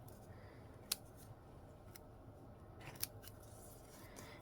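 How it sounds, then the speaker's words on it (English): Scissors cut a paper mask for a card, with two sharp, faint snips separated by quiet rustling, heard close in a still room. "I'm just going to start my cut by poking in my scissors there."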